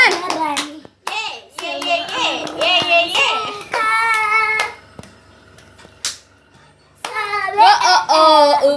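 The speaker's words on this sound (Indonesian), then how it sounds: "tepuk tangan." Bursts of hand clapping alternate with children's voices, with brief quiet gaps and a louder stretch near the end.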